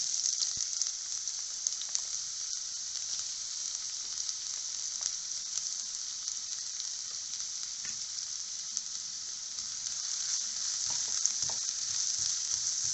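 Sliced onions fry in a pan of ghee for ghee rice, giving a steady, close, even sizzling hiss that runs unbroken throughout with no voices.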